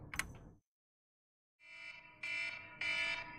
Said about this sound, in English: jam alarm buat boci